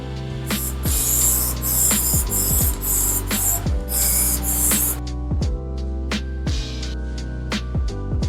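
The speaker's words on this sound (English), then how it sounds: "I'm just using really cheap spray paint, black spray paint, flat black spray paint" Cheap flat black spray paint hisses from an aerosol can onto a woodworking piece in short repeated bursts, with rattling and clicking handling noises between sprays, loud and close.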